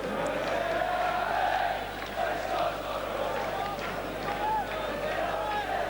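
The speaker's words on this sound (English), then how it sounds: "Capacity crowd here for tonight's encounter" Capacity football crowd at a Brighton v Manchester United League Cup match, a steady distant roar and murmur of the stands running throughout under commentary.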